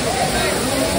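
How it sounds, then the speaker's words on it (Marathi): Rushing water at a waterfall on a group outing, a dense broadband roar filling the scene steadily throughout, with a crowd of people talking over it. "मी वॉटरफॉलला आलो बघा फायनली."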